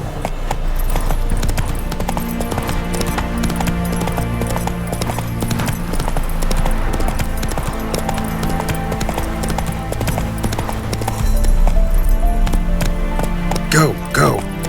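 A horse gallops in The Witcher 3 video game, with rapid, loud clip-clop hoofbeats throughout, joined by game music and a brief whinny near the end.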